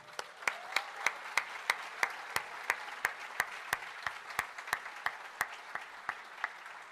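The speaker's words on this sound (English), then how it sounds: "how about a round of applause for our food services team?" A small audience at a breakfast event applauding the food services team, sparse, distinctly separate claps in a fairly regular rhythm, modest in volume and gradually thinning out.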